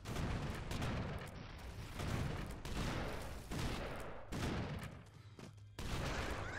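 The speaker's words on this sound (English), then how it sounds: "Well aimed grenades." Rapid grenade explosions and gunfire in the side-scrolling action game Broforce, a dense barrage of loud blasts in bursts with brief gaps between them, no talking.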